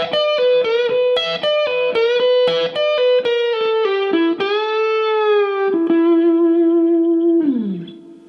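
Electric guitar picks a repetition lick slowly with hybrid picking, repeated plucked notes giving way to long sustained bends and a final slide down, loud and close with light effects.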